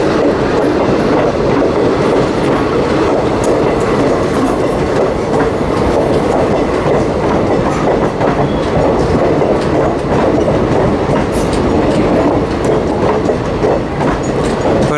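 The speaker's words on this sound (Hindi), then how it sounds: "रायपुर जंक्शन के प्लेटफॉर्म नंबर 1 पर अराइव कर रही है 15231 बरौनी गोंदिया एक्सप्रेस आ रही है WAP 7 के साथ" Train 15231 Barauni–Gondia Express, hauled by a WAP 7 electric locomotive, arrives at platform 1 of Raipur Junction with a continuous loud rumble and clickety-clack of coach wheels, plus faint high squeals, and no talking.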